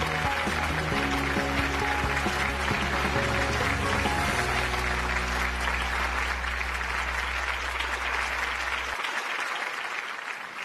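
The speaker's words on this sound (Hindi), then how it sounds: "मैं अभिनंदन करता हूं और तालियों के साथ उनका स्वागत करता हूं" A large audience claps steadily for several seconds over a low musical drone, welcoming a teacher at an award event, the applause continuing as the music cuts off near the end.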